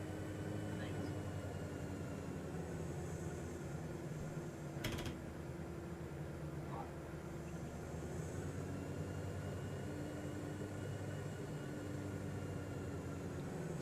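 In Microsoft Flight Simulator 2020, an airliner with flaps down lands at Akron-Canton Airport. A steady, faint broadband whoosh of engine and airflow noise carries on throughout, with one short sharp click in the middle.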